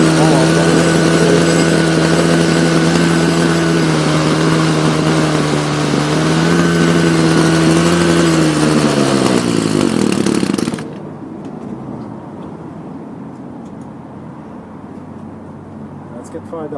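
Ryobi CS26 string trimmer two-stroke engine idling loudly and steadily, its pitch dipping briefly before it cuts out near the eleven-second mark, leaving faint background noise.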